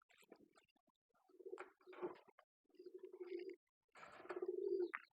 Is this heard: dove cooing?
yes